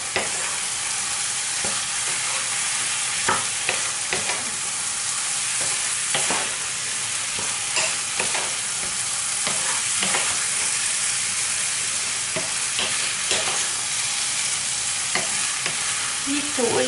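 Rice fries and is stirred in a pan with meat for an arroz meloso with pork cheek, giving a constant close sizzle broken by regular scraping and clinking strokes of the spoon.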